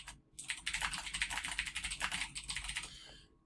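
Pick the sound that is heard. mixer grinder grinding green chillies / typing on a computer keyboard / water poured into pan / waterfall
typing on a computer keyboard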